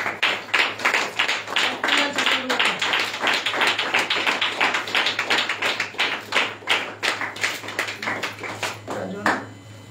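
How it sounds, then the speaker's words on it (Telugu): A crowd claps together in steady rhythm at a New Year's first worship service in an Assemblies of God church as a new calendar is unveiled, with a few voices heard faintly beneath the beat. "అందరూ గట్టిగా చప్పట్లు కొడదామా?"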